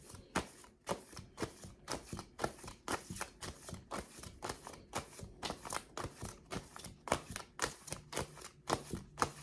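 Quick, regular flicks and riffles of tarot cards handled close up, a rapid run of crisp papery snaps with no talking, fairly quiet and even throughout.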